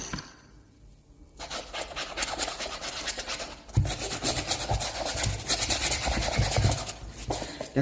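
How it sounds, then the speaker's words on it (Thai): A white canvas shoe is scrubbed with foam shoe cleaner: a quiet start, then close, continuous rasping scrub strokes that surge and ease in uneven bursts for several seconds, with no talking. "ยิงโฟมไปนะคะ แล้วก็ขัดขัดนะคะ"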